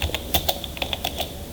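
Fingers tap a run of keys on a computer keyboard during accounting voucher entry, a quick irregular series of close plastic clicks ending with a key press, no talk.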